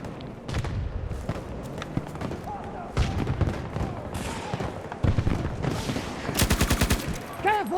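Gunfire in Battlefield 2042, loud bursts of rifle and automatic fire mixed with impacts and game effects, dense and continuous, with a rapid machine-gun-like stream near the end.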